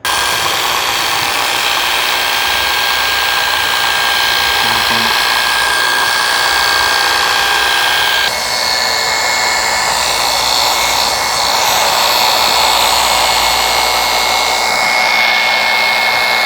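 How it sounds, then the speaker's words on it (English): Rotary tool sanding an aluminum grille with 320 grit, a loud continuous high whine that shifts in pitch partway through, close and unbroken with no talking. "I took my 320 grit and I went through this piece"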